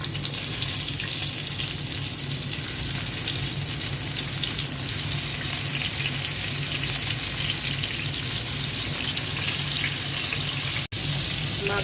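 Spiced rohu fish pieces frying in oil, a dense, loud, continuous sizzle that hardly varies, with one brief cut near the end and no voices.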